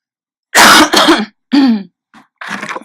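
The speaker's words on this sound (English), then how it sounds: "I'm gonna cough." Several close, loud coughs and throat-clearing bursts from one person, coming in uneven clusters separated by short pauses.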